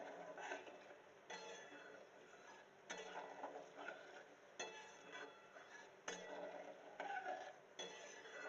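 Spices and turmeric being stirred in a pan while making mango oil, producing faint repeated scraping and clinking of a utensil against metal in irregular bursts.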